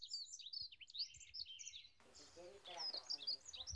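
Morning birdsong in the countryside near Geumsan, with bright overlapping chirps and tweets throughout, thickening into a denser, louder chorus halfway through, heard alone without people talking.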